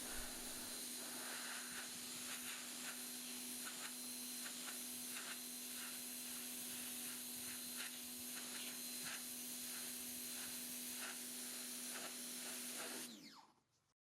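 A Parkside PHD 110 pressure washer sprays steadily through its Vario lance, a loud continuous hissing rush with a constant motor hum that cuts off abruptly near the end.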